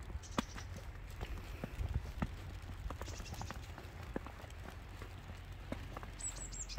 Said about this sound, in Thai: เสียงหิมะเด้อดังคบคับคบคับอยู่นะ